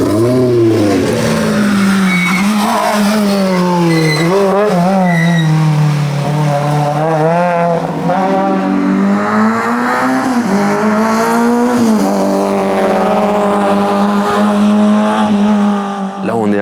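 Rally cars race through a special stage of the 2024 Rallye Bourgogne Côte Chalonnaise before heading into a descent, with loud, continuous engine revving and rising and falling gear changes that sweep past close by.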